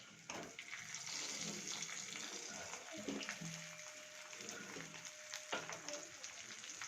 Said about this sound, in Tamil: திராட்சை லேசாக அப்படியே பொன்னிறமாக அப்படியே உப்பி வரணும்.